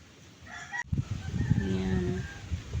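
Chickens on a Filipino farm vegetable patch: soft clucking at first, then after a brief knock a rooster's loud drawn-out crow rising over continued clucking, fairly close.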